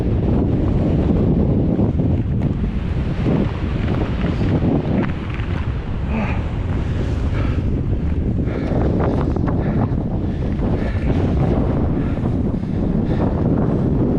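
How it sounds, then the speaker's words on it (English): Strong, constant wind roars and buffets close against the microphone on the mountain summit of Catstycam in December, with no letup, gusting loudly throughout. "Oh, this wind chill's a killer."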